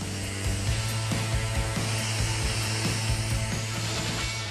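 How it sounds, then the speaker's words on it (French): A circular saw for metal runs continuously with a steady drone and repeated gritty bursts as it cuts through the legs of an old metal locker, loud and close throughout. "À l'aide d'une scie circulaire pour métal, notre duo s'attelle à couper les 4 pieds du vestiaire."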